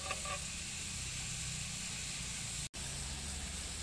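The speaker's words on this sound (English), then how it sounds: "Frying is going on." Onions and leaves frying in a pan for a Kerala-style pork and tapioca dish, a steady, close broadband sizzle and hiss that runs continuously with one brief dropout near the end.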